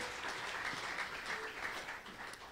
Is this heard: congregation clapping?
yes